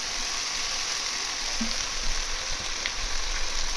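Steady bright sizzle of white cooking oil hitting frying spice paste for a Bengali village-style egg curry, continuous and close, with faint stirring ticks and no talk.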